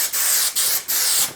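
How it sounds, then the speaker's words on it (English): Spray adhesive is sprayed onto wool or felt for upholstery in three close, loud hissing bursts separated by brief pauses. "rough spray the inside side of your wool or felt"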